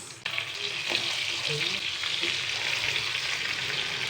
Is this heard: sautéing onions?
yes